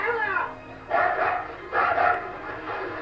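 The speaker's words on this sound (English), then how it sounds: "it's just there's some dogs" Dogs barking in a film soundtrack, two loud bursts of barking around one and two seconds with quieter yips between, heard at moderate distance.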